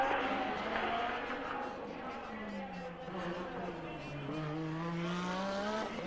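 Formula One cars racing at the Monaco Grand Prix, heard as rising and falling engine whines sweeping past and exiting a chicane, fairly faint under a commentator's talk and crowd noise.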